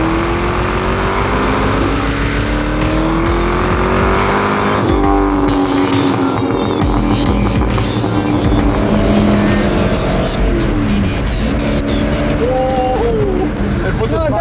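Porsche 928 custom pickup conversion accelerating from the driver's seat, a loud, steady engine roar rising in pitch through gear changes, with tire noise and people talking over it.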